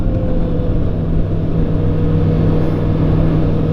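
A Kawasaki ZX6R motorcycle engine drones steadily and loudly throughout, a continuous near mechanical roar with no talking.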